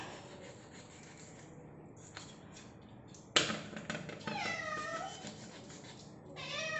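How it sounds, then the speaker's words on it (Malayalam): A house cat calls with several drawn-out meows in the latter half, fairly close and clear over a faint background, after a sharp knock or rustle. "ഒരു പൂച്ചയുണ്ട്, അത് കിടന്ന് വിളിക്കുന്നു"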